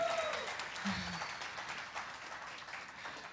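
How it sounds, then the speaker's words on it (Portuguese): A church congregation claps in praise, a soft, steady patter of many hands heard from a distance, with a brief voice or tone near the start before the clapping fades gradually. "Dá uma salva de palmas a Deus pela vida da Gabi."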